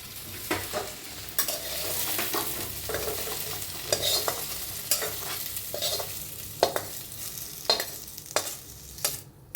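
Okra (bhindi) roasting and stirred in a pan: a steady close sizzle with repeated scraping stirs and sharp crackles, no voices.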